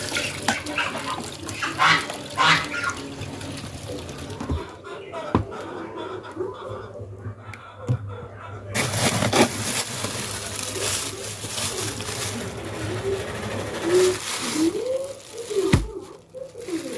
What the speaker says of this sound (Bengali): একটু ঝাঁকাই ঝাঁকাই পরিষ্কার করে ধুয়ে নিব